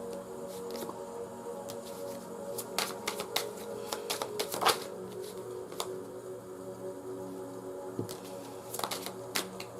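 Tarot-style cards are shuffled and pulled by hand, giving a close run of quick papery flicks and taps, with denser bursts of riffling midway and near the end.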